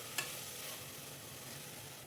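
Coriander powder and chilli powder frying in a pan while being stirred, giving a steady, soft sizzle with a brief scrape near the start.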